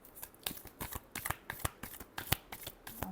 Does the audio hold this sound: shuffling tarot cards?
yes